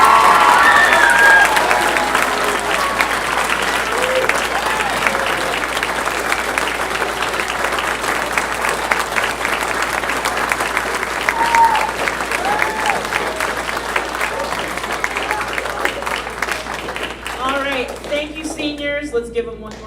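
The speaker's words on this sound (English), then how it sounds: "Let's give them one more round of applause." A school band concert audience in East Dubuque applauds loudly and continuously for about twenty seconds, dense clapping with some cheering that thins out toward the end.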